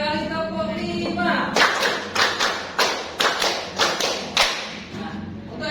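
Hand claps in a classroom rhythm exercise: about seven sharp, evenly spaced claps from a group, with a pause between two bursts, following a tonal intro.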